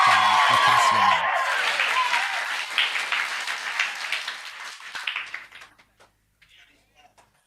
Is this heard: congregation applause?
yes